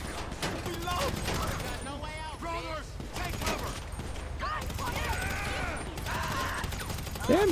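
Gunfire crackles in the video game Grand Theft Auto V as bursts of shots and mechanical clatter mix with in-game voices and other chatter, fairly loud and continuous throughout.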